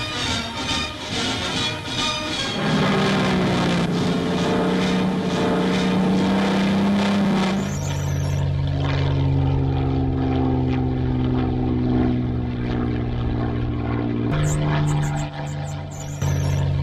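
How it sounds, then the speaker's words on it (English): Rolls-Royce Merlin engines on a propeller aircraft roar loudly and continuously, pitch shifting as they run up, with no voices over the heavy droning. "the first time these engines fire up and the Merlin roars again"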